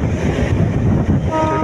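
Rumbling run of a moving Manmad–Hingoli passenger train, a steady low roar with wind buffeting, close and continuous with no talk.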